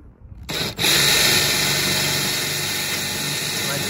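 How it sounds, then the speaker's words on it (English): Cheap centering drill bit in a power drill boring a pilot hole, likely into a front splitter panel for a Lexus IS F, running as a steady close whine that starts abruptly and holds continuously. "So I got my centering drill bit."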